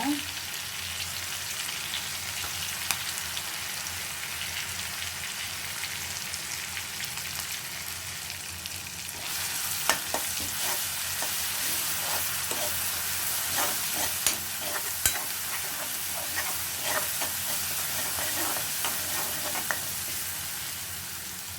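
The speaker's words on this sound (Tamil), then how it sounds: "இப்போ பச்சை மிளகாய் இஞ்சி பூண்டு அரைச்சி வச்சுருக்கேன். அதை சேர்த்துக்கிறேன்." A coarse paste of green chili, ginger and garlic fries for a samosa filling, a steady close sizzle that grows louder and sharper midway as it hits hot oil, with scattered spatter pops and stirring.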